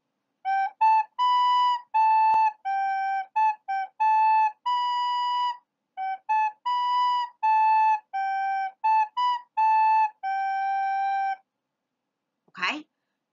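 Soprano recorder playing a simple melody of short and held notes in phrases, with brief gaps, clear and close, followed by a short whistle-like squeak at the end; no talking during the playing.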